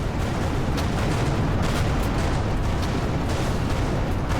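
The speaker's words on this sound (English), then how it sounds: "Vacate this area at once. Explosion imminent." A big explosion in the space combat game Everspace 2, a dense, loud, sustained rumbling roar with crackling bursts throughout, steady and without pauses; no talking.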